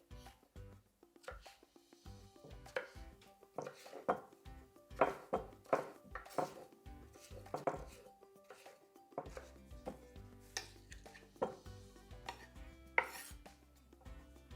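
A knife scores lines into a potato on a cutting board, giving quiet, close, irregular taps and chops in short bursts with soft rustling between them.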